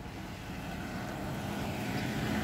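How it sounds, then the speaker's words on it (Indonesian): A Citilink Airbus A320 airliner taking off produces a steady, broad jet roar that grows slightly louder across the short stretch, with no talk over it. "monitoring proses take off dan persiapan take off dari maskapai CityLink dengan jenis pesawat"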